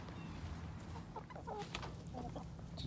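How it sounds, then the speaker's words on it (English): Farm chickens cluck and chatter in a loose, irregular series of short calls, moderately close against steady outdoor background noise. "It's a chicken party."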